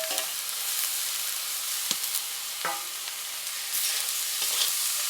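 Potatoes with turmeric and chilli powder frying in a pan, a constant close sizzle of hot oil with a couple of faint clinks of a spatula, no one speaking.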